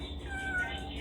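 A cat gives a single faint meow against a quiet indoor background, short and soft.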